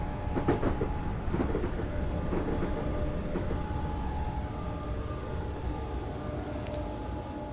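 Train running on rails in the Train Simulator 2013 game, a steady loud rolling rumble with a faint high whine and a few clicking wheel beats early on, continuous throughout with no talk.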